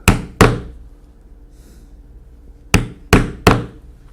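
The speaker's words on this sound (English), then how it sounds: "we'll punch the holes to 1/8 inch in each end as we've marked them" A hole punch driven through leather chap straps for 1/8-inch rivet holes, sharp close mallet strikes, two in quick succession, a pause, then three more evenly spaced.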